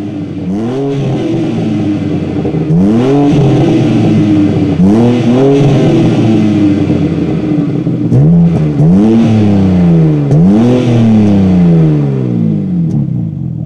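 A 2025 BMW M4 CS's exhaust roars loudly nearby as the engine is revved again and again, each rev surging up and falling back to a throbbing idle.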